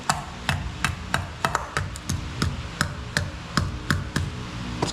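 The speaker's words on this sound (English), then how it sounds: "this time I'll try using the hammer a little bit" A hammer taps sharply on a Tesla Model 3 wheel part about a dozen times in a loose, steady rhythm, each strike crisp and close.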